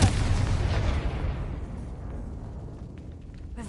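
A Confringo fire spell blast in the video game Hogwarts Legacy, one loud, dense burst of roaring, crackling energy that fills the foreground and then slowly thins out and fades.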